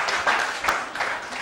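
Classmates applauding in a chemistry classroom, a short burst of scattered clapping from several people, moderately loud and brief.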